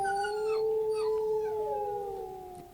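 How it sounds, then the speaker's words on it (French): A howling canine chorus of wolves, a she-wolf and her cubs, sustained tonal howls with whimpering rising and falling together, close and steady without speech. "Les louveteaux le regardèrent s'éloigner et poussèrent des gémissements qui se mêlèrent aux aboiements de la louve."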